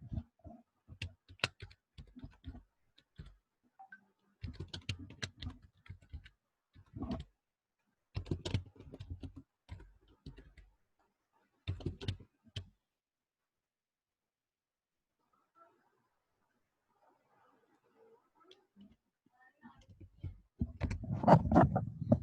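Close-up clatter of typing on a computer keyboard, coming in short bursts of rapid key clicks separated by pauses, with no talking.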